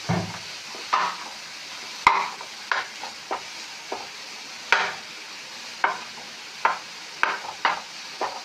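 Chopped pineapple cooking in a pan for pudding, stirred with a spoon in a steady series of sharp scraping strokes over a faint, close sizzle.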